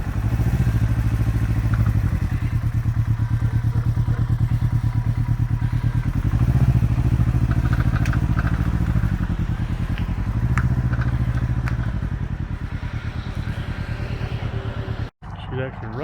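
A 2021 Can-Am Ryker three-wheeled motorcycle runs close by in a parking lot, its engine a steady, loud, low rumble with slight swells in pitch that cuts off sharply near the end.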